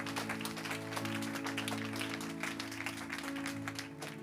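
A church congregation applauding to acclaim the Lord, with steady, moderately loud clapping over sustained organ or keyboard chords throughout.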